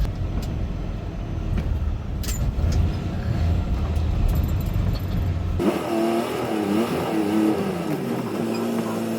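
Semi truck running without a trailer, bobtailing: a steady low engine drone and road rumble, shifting partway through to a brighter, tonal engine whine with rising harmonics as it pulls along, loud and close throughout.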